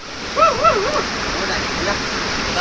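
A waterfall roars as a constant rushing wash of water, with a brief whistle-like voice sound early on.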